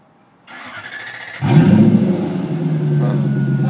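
A Lexus LS400 V8 is cranked, then catches and roars into a loud, sustained rev. The deep engine drone holds steady nearby after the brief starter noise.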